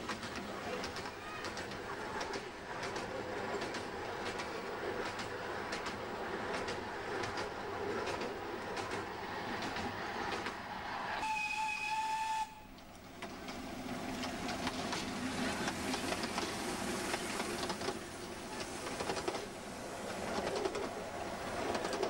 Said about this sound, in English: There's a nice little engine.